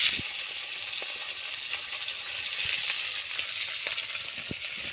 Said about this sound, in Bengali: কড়াইতে মাছ ভাজার জন্য আবারও একটা মাছ দিয়ে দিয়েছি।